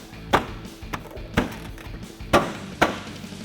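Trim piece on a 2019-2020 RAM 1500 pressed into place, giving several sharp plastic taps and clicks at uneven intervals, close by and fairly loud.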